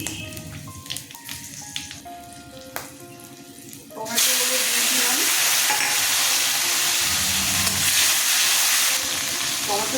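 Green chili, fenugreek and nigella seeds dropped into hot oil burst into a loud, steady sizzle partway through, after quieter kitchen clatter and utensil clinks, and the sizzle holds close and strong to the end.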